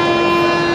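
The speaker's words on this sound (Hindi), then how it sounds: "ट्रेन ने हॉर्न दे दिया है" A train horn on the Mumbai LTT to Banaras SF Express blares loud and steady as one sustained, unbroken tone held close by.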